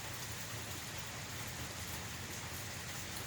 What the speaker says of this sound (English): How nice is it with the rain?